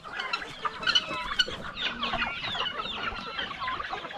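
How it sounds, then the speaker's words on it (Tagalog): Native chickens cluck close by in a quick, irregular series of short calls and squawks, with several birds overlapping and no talking. "Yung mga alaga na yung manok, oh."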